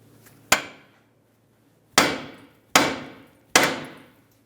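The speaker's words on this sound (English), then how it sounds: "you could carefully use a hammer and tap along this area of the knuckle" A hammer strikes the steering knuckle of a 2006-2012 Ford Fusion in four sharp metallic taps, one alone and then three in quicker succession, each ringing briefly before fading, close and clear with no talk.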